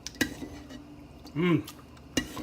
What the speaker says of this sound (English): I'm going to go ahead and use a strainer spoon